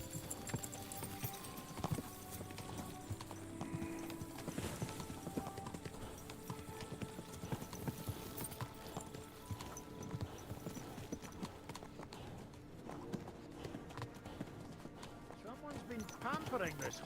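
Steady clip-clopping of horse hooves at a walking pace in Kingdom Come: Deliverance II, running throughout beneath background music and voices.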